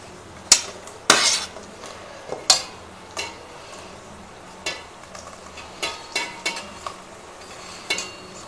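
Chopped tomatoes go into a pan for an egg masala curry, followed by a spoon stirring and scraping, giving a run of close clinks and knocks over a soft background sizzle.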